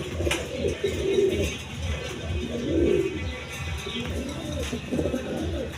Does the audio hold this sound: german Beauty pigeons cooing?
yes